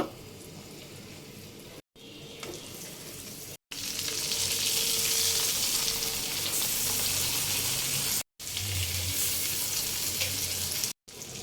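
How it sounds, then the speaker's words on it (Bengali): Hilsa fish roe frying in a pan, a bright, continuous sizzle that swells louder partway through, interrupted by a few brief silent cuts, with occasional low clatters of the pan or spatula. "এখন আমি ডিমগুলো ভেজে নিব"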